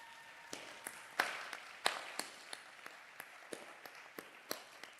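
Scattered, sparse claps from a small audience at a community safety summit, single sharp hand claps popping irregularly every half second or so at moderate volume over a quiet room, with no talking.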